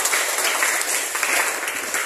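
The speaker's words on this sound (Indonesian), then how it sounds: "Bagus, tepuk tangan untuk Raya" A seventh-grade Christian religion class claps for a student named Raya after she reads aloud, a brief burst of close, bright applause that stays even throughout.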